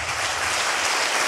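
Sustained applause from a charity concert audience fills a hall as a dense, steady roar of many hands clapping at once, with no other sound standing out.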